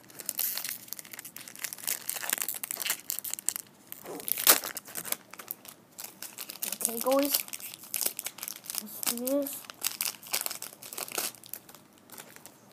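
Card pack foil wrappers crinkling and tearing open, a crisp rustling texture running nearly throughout with a sharper rip in the middle, heard close up while someone talks over it.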